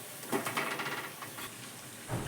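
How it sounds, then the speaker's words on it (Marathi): Peas vada sizzling in hot oil over a low gas flame, a steady frying hiss with brief bubbling bursts, close and fairly quiet with no talking. "हे आपण चार ते पाच मिनटं पूर्ण बारीक गॅसवर तळून दिले"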